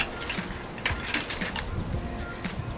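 Metal washers clink as they are stacked onto a KT196 go kart steering spindle, a series of light, sharp metallic ticks and taps spread across a few seconds, close up, with no talk.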